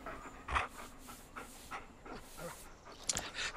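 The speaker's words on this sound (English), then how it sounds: "Ooh, you're a nice little doggy." A dog in the prehistoric game Far Cry Primal pants softly in quick, uneven breaths, with a few sharper snuffs and whimpers, faint and nearby with no speech.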